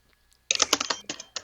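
Rapid typing on a computer keyboard picked up by an open microphone, a quick burst of close, clicky keystrokes starting after a short silence.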